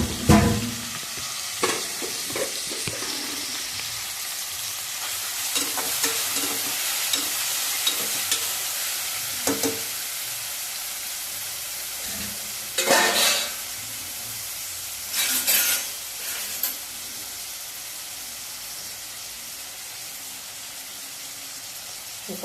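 Mutton pieces sizzle in a pan with a constant frying hiss, broken by occasional scraping stirs and louder bursts of spattering as the meat is turned; no voices.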